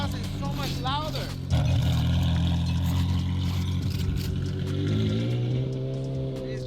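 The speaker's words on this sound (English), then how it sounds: "My God, this exhaust is so much louder." A tuned Porsche Carrera GT runs with a loud, droning exhaust note, holding a steady roar and then climbing in pitch as the revs rise near the end, with no speech.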